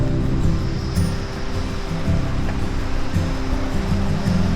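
An Appalachian creek flowing past a floodgate setup in Grundy, Virginia, a constant broad rushing wash of water, close and fairly loud, with no voices over it.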